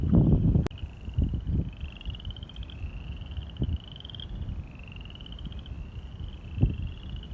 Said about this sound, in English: There's the frogs. I hear the frogs.